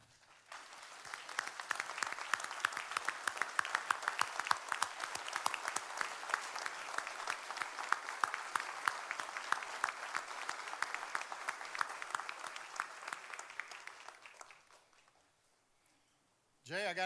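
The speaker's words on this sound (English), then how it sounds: "One more standing ovation for all of our awards received tonight" A sheriff's office awards ceremony crowd gives a standing ovation to award recipients: dense, sustained applause from a large room that swells, holds for about fourteen seconds, then fades out, with a voice returning at the end.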